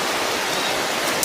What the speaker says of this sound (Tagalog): Malakas yung ulan mga tol.